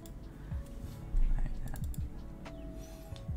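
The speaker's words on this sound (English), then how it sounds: "Keyboard tester" Typing on a Daisy 40 mechanical keyboard during a keyboard build: a rapid run of close, crisp key clacks in an uneven rhythm, with heavier thocks partway through and faint voices in the background.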